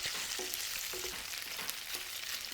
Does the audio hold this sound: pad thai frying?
yes